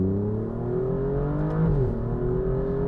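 Alfa Romeo Giulia Quadrifoglio engine pulling hard in first gear, then a quick 1 to 2 upshift with a brief dip before the droning, rising exhaust tone resumes, heard from inside the car.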